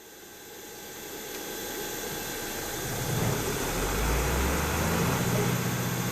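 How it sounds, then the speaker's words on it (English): A ground power unit engine in the AirportSim airport game cranks up and settles into a steady idle, its low rumble rising in strength partway through and holding on as a constant mechanical drone with no talking. "hold down the engine start button for approximately 3 seconds"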